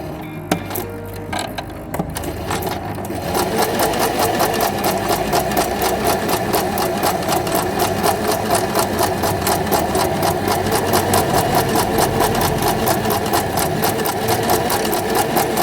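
A Buona Design Venecia sewing machine runs a twin-needle straight stitch, a close, steady, rapid mechanical whir with an even rhythmic ticking that settles in after a brief start and continues alone.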